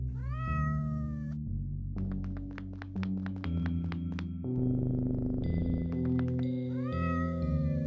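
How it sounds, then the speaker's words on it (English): Meowing from a cat in the video game OneShot, rising meows at the start and end around a run of bright, tonal chirps and beeps, all clear and close with no talk. "Oh, a cat."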